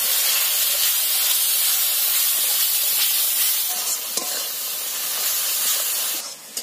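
Water splashed into turmeric and chili powder frying in a pan for a village-style katla fish curry with paneer, cauliflower and potato, giving a loud, steady steamy hiss and sizzle that fades slightly near the end, with no talking.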